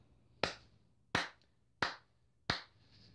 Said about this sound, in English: that was a slow clap for Deka Games